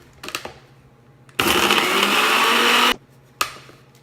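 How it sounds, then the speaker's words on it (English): An electric grinder roughly grinds three chilies and a tablespoon of cumin seeds in one loud burst of about a second and a half, framed by short rattles and clicks before and after. "3 chilies and 1 tablespoon of cumin seeds. So let me just roughly grind this first."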